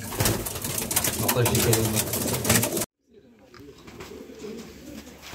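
Long-distance racing pigeons coo in a loft, their low, rolling calls overlapping close by, joined by someone talking over them; the sound cuts out abruptly partway, then the softer cooing returns.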